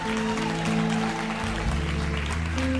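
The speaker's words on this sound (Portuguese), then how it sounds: "Você pode aplaudir o Senhor?" A church congregation at an Easter service claps together over sustained worship music, a dense, even patter of applause from a large crowd filling the room.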